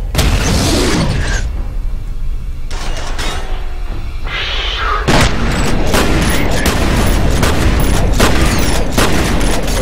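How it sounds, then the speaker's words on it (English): Grenade blasts in the shooter game F.E.A.R. boom loudly over a dense, continuous barrage of gunfire and combat noise, with several sharp bursts spread across the stretch. "I lobbed a grenade."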